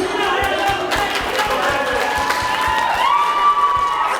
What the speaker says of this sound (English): I'll give him a round of applause,